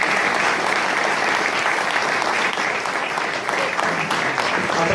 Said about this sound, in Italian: un applauso va all'Associazione Sant'Andrea, di cui Oscar è il motore da tanti anni,